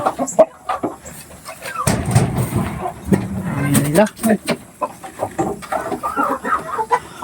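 Chickens cluck and squawk close by in a busy farmyard, with a person speaking briefly over the birds and some handling noises.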